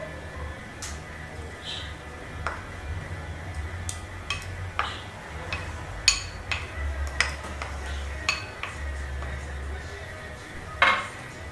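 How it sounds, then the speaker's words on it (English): A knife chops two garlic cloves and a medium onion on a board for lasagna Bolognese, with irregular light taps and clicks spread through, close by over a low steady hum and no talk. "Chop 2 cloves garlic, and the medium onion"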